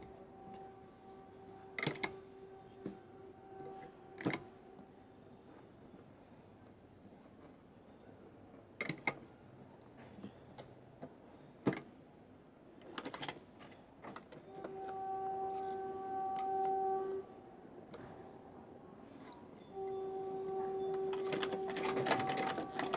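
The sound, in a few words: sewing machine stitching baby pants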